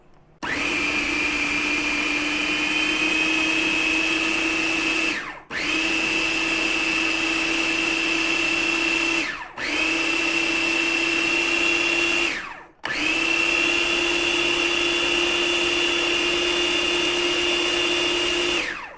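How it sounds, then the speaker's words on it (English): A food processor whirs loudly in four long bursts with short pauses between, each run a steady high motor whine that spins up and winds down. "I'm doing this in a food processor"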